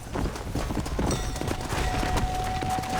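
Rapid hoofbeats gallop in a steady rhythm under Red Dead Redemption: Undead Nightmare game sound effects, with a faint tonal hum and a brief squeal near the start.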